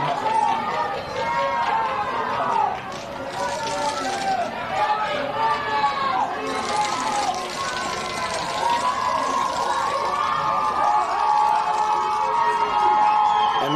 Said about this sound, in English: crowd is getting quite loud here for Clifton